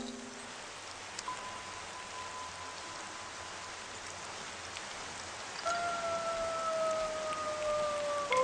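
Rain falls in a garden in a steady, even hiss that continues throughout, with a few brief high tones above it.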